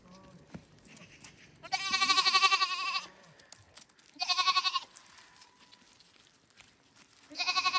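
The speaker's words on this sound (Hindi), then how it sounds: "ठीक है ये आपकी बकरी है जी" A goat bleats in three loud, wavering calls at a village roadside at dusk, each lasting about a second, with quieter rural background noise between them.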